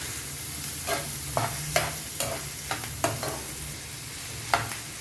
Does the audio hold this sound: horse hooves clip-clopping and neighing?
no